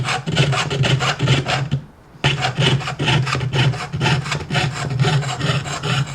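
A jeweler's saw cuts through metal with a steady back-and-forth rasping rhythm, close and loud, pausing briefly partway before the strokes resume.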